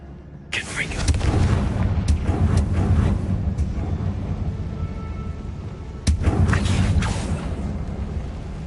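A Confringo blasting curse exploding in Hogwarts Legacy: a sudden blast followed by a long, rolling rumble, then a second blast that also decays into sustained noise.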